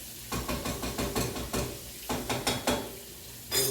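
Onions sauteing in a pan while being stirred, with a regular series of scraping, clattering stir strokes over a soft sizzle, close by and fairly quiet, with no voices.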